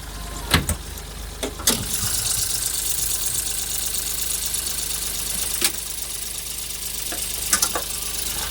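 A used Mahindra with about 10,000 km on it idles with a low, even engine hum, broken by a few sharp clicks and knocks near the start and later on.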